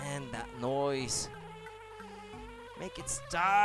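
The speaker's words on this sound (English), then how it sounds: "Imagine hearing the bee sound in your sleep." Insect buzzing from a bee in a Banjo-Kazooie N64 rom hack, a thin droning hum running through the moment with game music tones, while a player talks and exclaims over it.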